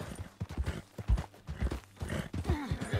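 Horse hooves clop unevenly over rough ground in Red Dead Redemption 2, a loud, close run of irregular thuds with a brief whinny-like tone near the end.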